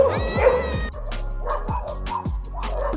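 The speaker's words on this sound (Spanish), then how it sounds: "¡Ay, todos los perros!" Several dogs bark and yip in a rapid, overlapping chorus, loud and close, with repeated sharp barks spread through the whole stretch and no talking over them.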